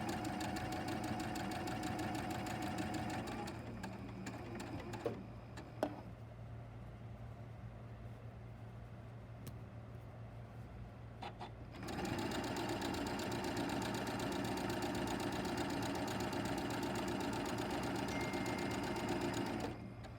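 A sewing machine stitches quilt fabric for nine-patch blocks with a steady, close mechanical whir. It pauses for several seconds, with a few small clicks, then runs again at an even pace.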